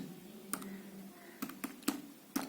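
Keys clicking on a computer keyboard as a short command is typed, a handful of sharp separate taps spread unevenly over a quiet room background.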